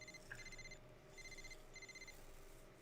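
Phone notification chimes heard over the quiet hum of an NCAA college basketball video game, with two short bursts of bright, repeated electronic tones about a second apart.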